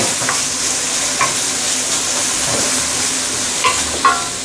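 Carrots sautéing in hot oil in a wok or pan for dark soy sauce chow mein give a steady, close sizzle with brief scraping stir strokes now and then, and no voices.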